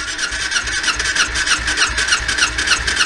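A Ninja 250 EX250 road racing engine cranking at full throttle with no ignition during a compression test, a loud, steady starter whir with rhythmic pulsing compression strokes, close and continuous.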